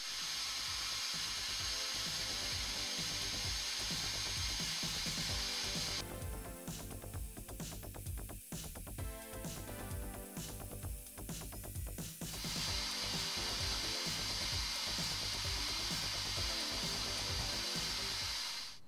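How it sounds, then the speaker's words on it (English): Abrasive blasting of old varnish off a 110-year-old Disston hand saw handle, a loud steady hissing blast punctuated by rhythmic clicks, with a harsher, denser burst in the middle stretch. "I'm going to start blasting the handle to remove the old varnish and anything else that shouldn't be on there."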